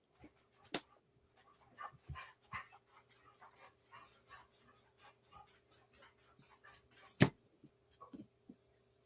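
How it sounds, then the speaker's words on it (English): A dog pants in quick, steady bursts with a few short whimpers mixed in, close and fairly quiet over a faint constant hum, with one sharper sound near the end and no talking. "Bad dog."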